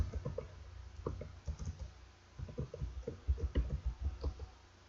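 Rapid, uneven keystrokes clatter on a computer keyboard as code is typed, coming in quick bursts with brief pauses, close and fairly quiet, with no voices.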